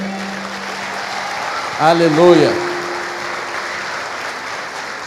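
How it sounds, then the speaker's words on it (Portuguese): Congregation applauding during a Holy Communion service at a church in Barretos, Brazil: a steady wash of clapping throughout, with a voice calling out briefly in the middle. "Pode aplaudir o Senhor?"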